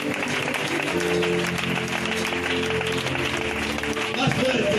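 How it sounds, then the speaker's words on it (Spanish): Church congregation applauding loudly and steadily throughout a worship service in Alcañiz, with voices calling out over the dense clapping and a harmonic tone running beneath. "Fuerte aplauso, voy a terminar."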